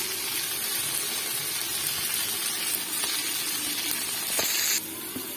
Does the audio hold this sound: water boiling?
yes